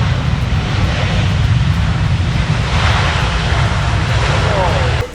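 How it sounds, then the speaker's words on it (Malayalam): An Air China Airbus A350 airliner coming in to land, a loud, continuous broadband jet roar that stays steady throughout and drops away abruptly near the end. "എയർ ചൈനയുടെ എയർബസ് 350 വിമാനമാണ് ഇപ്പോൾ അവിടെ ലാൻഡ് ചെയ്തുകൊണ്ടിരിക്കുന്നത്"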